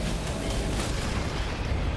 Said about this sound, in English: Just explosions.